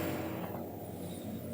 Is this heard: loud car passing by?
yes